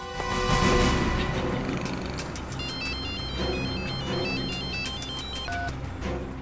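An electronic phone ringtone plays a repeating melodic tone pattern, fairly clear over a busy background, without anyone talking.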